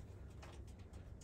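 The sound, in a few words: pigeons cooing in a coop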